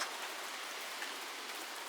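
Steady rain falls in Fiji near the Sawa-i-lau caves, a soft, even hiss of drops on surfaces, fairly quiet and uninterrupted, with no voices over it.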